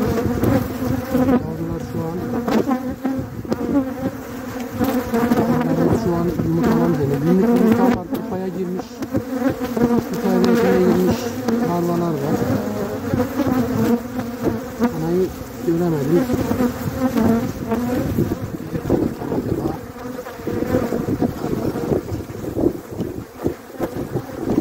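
Honeybees swarm around an open hive from a weak colony on a cool 17–18 degree day, producing a steady, close, dense buzzing hum with some wind rumble over the microphone.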